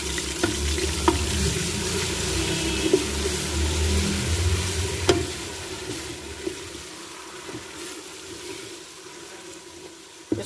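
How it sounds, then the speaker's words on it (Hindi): Green chili and garlic-ginger paste fry in hot oil for a beef parcha masala, a steady close sizzle with occasional stirring clicks and scrapes, easing off slightly toward the end. "इसके बाद इसमें हमने हरी मिर्च का और लहसुन अदरक का पेस्ट शामिल कर देना।"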